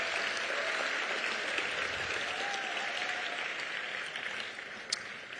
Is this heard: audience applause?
yes